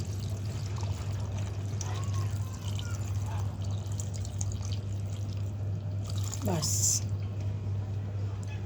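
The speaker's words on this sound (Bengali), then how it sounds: "আমি তো প্রেশার কুকারে দিচ্ছি পানি একটু কম দিব" Water pours into a metal pressure cooker over a steady low hum, with a short rising gurgle as the vessel fills.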